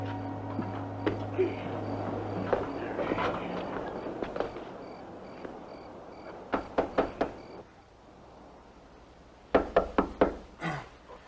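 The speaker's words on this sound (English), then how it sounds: "It's pretty late to go knocking on people's doors." Sharp knocks on a door arrive in quick clusters of three or four raps with pauses between them, the last group louder and closer, set in a quiet indoor scene from a 1962 drama.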